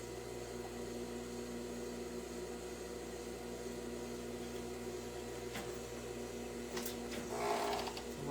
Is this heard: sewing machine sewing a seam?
yes